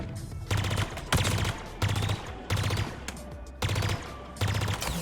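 Academy weapon firing in Halo Infinite, heard as six loud, evenly spaced bursts of rapid automatic fire with short gaps between them, close and alone.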